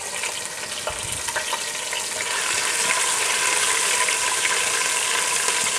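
Chopped green chillies are frying in a pan for street-style dal mash, making a steady, dense sizzle with faint scraping and stirring clicks that slightly intensify midway, close and continuous, with no voices.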